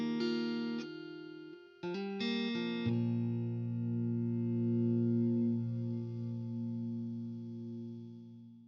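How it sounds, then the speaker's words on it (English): A song's final sustained note in Universal Audio Luna with reverb automated onto it, a few short tonal notes giving way to a long held chord that rings out and slowly decays. "we can just add reverb to the very last moment of the song"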